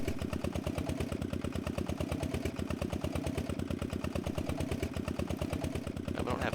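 A steady, rhythmic four-gear tractor engine chugs at low idle in the video game Professional Farmer 2014, evenly pulsing throughout at moderate loudness, with no voices.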